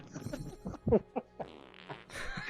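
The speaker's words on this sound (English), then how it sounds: "Let's fart." A character in the video game Fable lets out a short comic fart, a few brief rumbling bursts close up with game sound around them.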